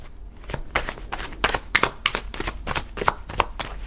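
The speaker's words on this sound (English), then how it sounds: "I don't know why I'm shuffling cards," A deck of tarot cards is shuffled by hand in a quick run of crisp riffling bursts and soft slaps, close and fairly quiet, with no talking.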